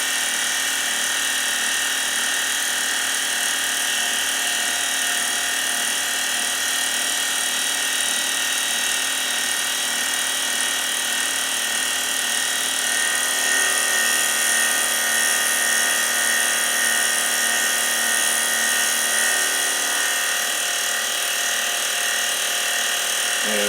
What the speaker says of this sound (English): We've already fly cut the other side, so he's flipped over and I'm going to do a finishing cut on this side.